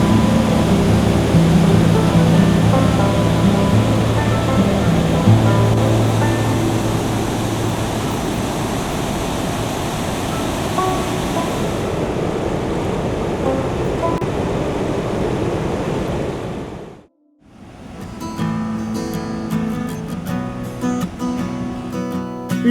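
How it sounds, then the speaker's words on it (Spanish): Dense, steady roar of falling water at Salto del Sapo in Canaima, Venezuela, a broad loud rush filling the scene, cutting out briefly near the end before returning. "bien gratificante y sobre todo relajante el sonido y la fuerza del agua"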